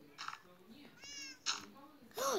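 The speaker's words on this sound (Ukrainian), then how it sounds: "Там кіт заспавнився і впав" A video game ocelot spawns and falls into the void, giving a few short meows at close range, mixed with talk in the background.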